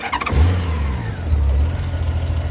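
A Honda Goldwing motorcycle engine starts with a short cranking burst, then settles into a steady, deep, loud idle close by.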